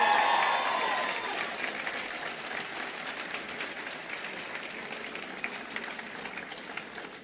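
Graduates and their families applaud at a fall convocation ceremony, the clapping starting fuller and gradually thinning into lighter, scattered claps over several seconds.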